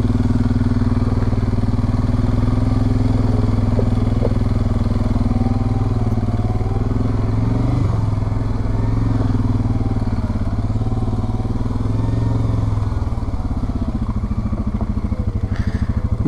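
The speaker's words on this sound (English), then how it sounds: "Engine braking is really good." Suzuki King Quad 750 ATVs grind up a rocky mountain trail in Idaho, the engine droning steadily and loud throughout with slight shifts in pitch and some clatter from the terrain.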